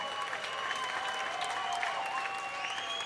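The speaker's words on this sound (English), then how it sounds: "big round of applause." A large crowd at a boxing match applauds steadily for a few seconds, dense clapping heard from a distance with a faint announcer's voice over it.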